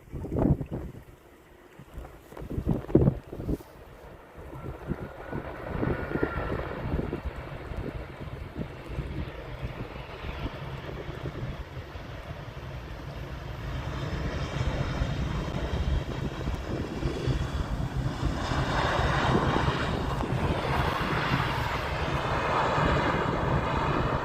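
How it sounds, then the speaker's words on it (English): An Airbus A319 lands at Amsterdam Schiphol's Polderbaan runway, heard as a distant low jet rumble that swells and grows louder over about twenty seconds, mixed with gusty wind buffeting the microphone. "an Airbus A319 landing right over there"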